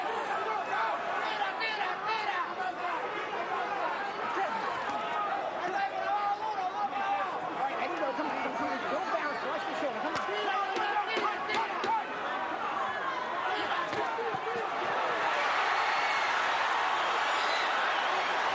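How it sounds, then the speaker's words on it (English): A boxing crowd at a WBO light welterweight bout between John John Molina and Oscar De La Hoya gives off a dense, continuous roar of cheering and chatter that swells louder near the end. "You can just hear the crowd just getting into this fight right now"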